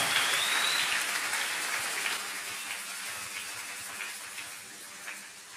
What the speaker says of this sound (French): Acclamez fortement en honneur de Jésus-Christ.